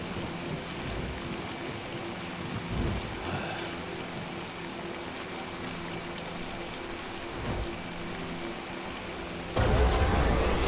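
Steady rain falling in the video game Death Stranding, a dense, even hiss with faint low rumbles, ending in a sudden louder burst near the end.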